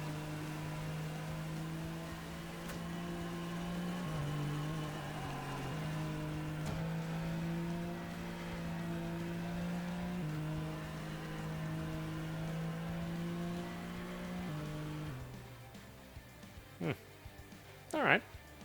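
A futuristic racer's turbo boost in Rise: Race the Future on Nintendo Switch: a steady engine whir with a droning tone holds for most of the stretch, then shifts, ending in a few brief swooshes.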